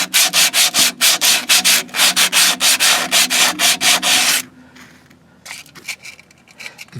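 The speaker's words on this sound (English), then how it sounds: "Just gonna take a little 120 and get this dirt and gunk off the coils before I shoot them black." Sandpaper of 120 grit scrubs dirt and gunk off the suspension coil springs of a third-generation Camaro, with steady, fast back-and-forth rasping strokes for about four seconds, then stopping and leaving quiet handling noise.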